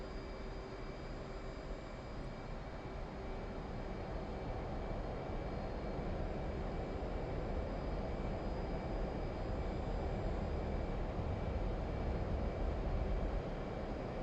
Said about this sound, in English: Enfield 1-1, you are cleared for takeoff when ready